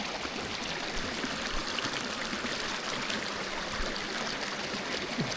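Stream water splashes and rushes on a mountain walk, a steady broadband hiss of flowing water close by with small splashes throughout and no talking.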